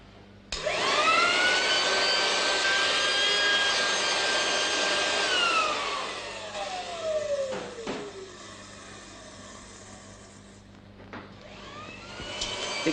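A 1959 hovercraft model, air rushing out around the edges of its cans, makes a loud, steady broadband roar with a whining tone that falls away as the airflow eases, then fades to a low hiss with brief knocks.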